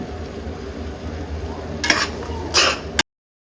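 Ground medium-size tomatoes fry in a pan for a Karnataka chicken curry, giving a steady low sizzle with two brief louder bursts of stirring near the end.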